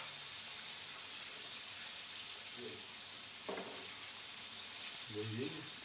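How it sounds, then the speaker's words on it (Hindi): Mashed potatoes frying in oil in a frying pan over low to medium flame, a steady sizzle running throughout with a few brief stirring scrapes and clinks. "अब एक लेके फ्राई पैन उसमें ऑयल डाल के और इसको फ्राई कर लेंगे लो टू मीडियम फ्लेम पे।"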